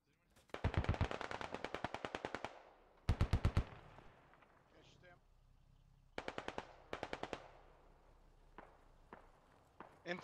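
Automatic gunfire in the military shooter game Squad: loud, rapid bursts of machine-gun fire in three volleys, then a few scattered single shots sounding farther off.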